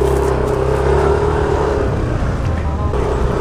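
A 2021 Yamaha NMAX scooter engine runs with a steady, continuous drone and a slight rise in revs, close and loud throughout, with no talking.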